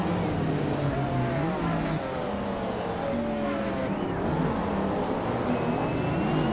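A 1992 City Motor V6 race car and other cars roar steadily in a racing game. Engine tones rise and fall as they rev and shift, continuous and fairly close, with no one speaking.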